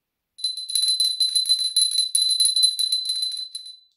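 A small bell rung for a wish gives a rapid, continuous high tinkling for about three seconds, close and clear, then rings out briefly alone.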